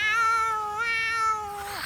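A cat gives a single drawn-out meow, close and clear, on a night street in an anime; the call rises slightly, then bends downward at the end, with no speech over it.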